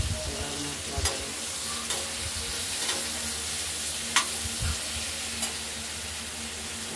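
Spices frying and sizzling in hot oil in a pan for cooking prawns with jackfruit, a steady dense close sizzle with occasional stirring clicks and scrapes, no talk.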